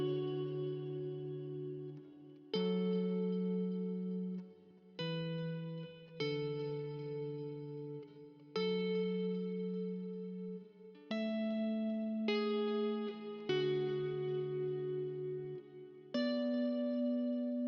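Clean electric guitar riff soaked in heavy reverb, slow sustained chords changing every second or two with long atmospheric tails, steady and alone.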